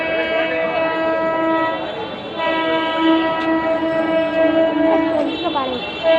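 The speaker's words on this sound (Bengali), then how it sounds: "ওই তো ট্রেন ঢুকছে" A Sealdah-bound commuter train pulls into a station, sounding a loud, sustained multi-tone horn over the heavy rumble of the approaching cars; the horn briefly dips and resumes near the end.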